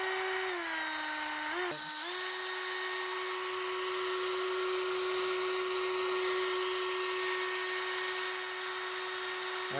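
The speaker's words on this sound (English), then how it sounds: "take that rivet and just drill out the top of it" A small power drill bores out the head of a rivet on a 1/64 scale toy truck, a Chevy C10 replica. Its high, continuous whine dips briefly in pitch twice early on as the bit bites, then holds steady and close.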